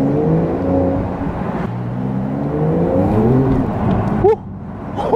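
Porsche 992 GTS engine running on a wet road, a loud close drone with rising and falling revs as it accelerates, ending in a quick sharp change in pitch.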